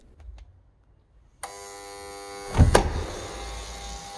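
An electric door lock on an old intercom entry system is released from a phone app. It gives a sudden steady electric buzz that holds for several seconds, with a louder clunk partway through, close and clear.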